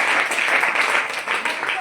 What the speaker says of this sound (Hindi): एक जोड़ा तालियां तेल के